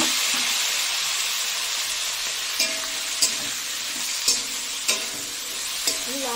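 Chopped vegetables and bottle gourd sizzle and fry in a pan for a fish-head shukto, a steady hiss broken by several sharp clanks and scrapes as they are stirred.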